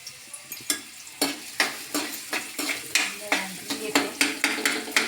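Chopped onion frying in hot oil in a kadhai on a gas stove, with a steady sizzle beneath repeated close metallic clinks and scrapes of a spoon stirring against the pan.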